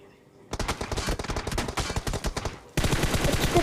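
Rapid automatic gunfire in the PUBG video game, loud bursts of closely spaced shots that pause briefly and then resume as a denser stream, heard near and alone.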